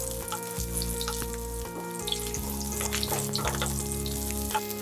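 Onion sizzles in hot oil in a pan, a steady close crackling fry with small pops over a constant low hum.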